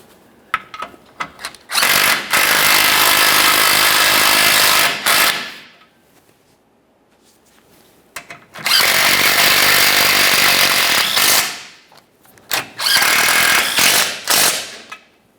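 A power tool drives control arm bolts into the subframe of a Toyota Sienna in three long, loud whirring bursts, each several seconds long, separated by quiet gaps with faint clicks.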